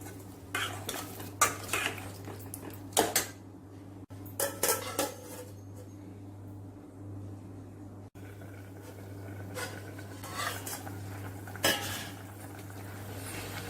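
Pouring tamarind extract into brinjal sambar in a pot, with scattered clinks of metal utensils and stirring scrapes over a steady low hum, fairly quiet and with no talking.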